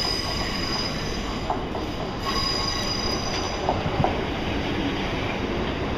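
Class 442 electric train passing through Clapham Junction station, a loud, continuous, close rumble of wheels on rail with high squealing tones and occasional clicks, steady throughout with no talk.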